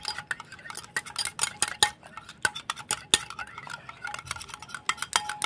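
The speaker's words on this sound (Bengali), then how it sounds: "এবার আমি টক দইটাকে ভালো করে ফেটিয়ে নেব" Sour curd (yogurt) is whisked in a bowl for raita, giving rapid, irregular metallic clinks and scrapes of a utensil against the bowl, close and fairly crisp, with no talking.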